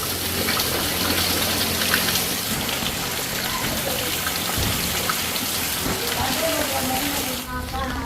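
Steady rain pours down over a village in Jaffna, a dense continuous hiss of drops on surfaces, close and fairly loud throughout, with faint voices and a brief tonal sound near the end.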